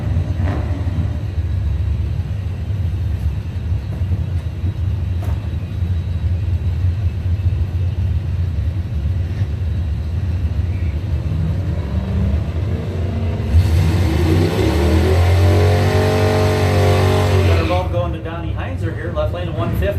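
A 2002 Ford F-250 truck runs down a drag strip in a racing event, its engine a low steady rumble that rises into a louder revving surge near the end, under an announcer's voice.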